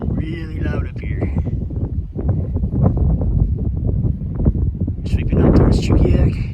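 Strong wind gusts across a mountain trail on Mount Baldy near Eagle River, Alaska, roaring and buffeting the microphone steadily under a person talking throughout.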